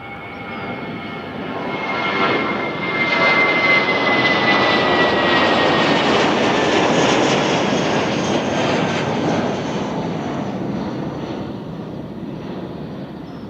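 Airbus A320 jet airliner with engines roaring loud and near at an airport viewing mound, a broad steady rumble that swells after two seconds and holds before easing slightly as it passes; no talk.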